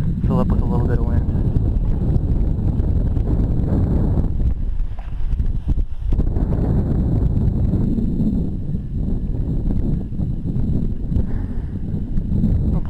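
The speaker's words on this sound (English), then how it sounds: "wind's coming across the hill" Wind blows across a hillside at a paragliding launch, buffeting the microphone with continuous low rumbling gusts under people talking.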